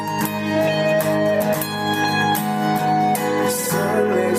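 Electric guitar lick played an octave higher over a full band backing, with steady rhythmic strums and melodic lines running loud and continuous throughout.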